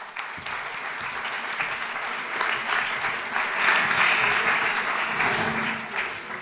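An audience at an employment conference applauds a debate panel taking the stage, a steady roomful of clapping that swells in the middle and holds throughout.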